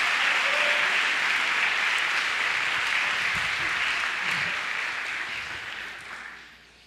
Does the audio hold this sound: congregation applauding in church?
yes